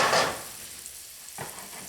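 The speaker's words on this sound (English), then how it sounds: "Saute the garlic." Garlic sautéing in oil in a pan for a wild chicken mushroom sauce, a brief hiss of sizzling at the start that fades, then a short stirring scrape near the end, with no talking.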